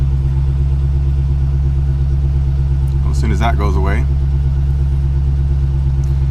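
Dodge Charger 392 Scat Pack V8 idling, a steady low rumble throughout with a brief spoken phrase over it partway through.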